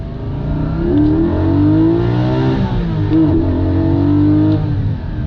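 A Porsche GT4 engine revs while driving, loud and close, its note climbing and falling in steady sweeps with no voices over it.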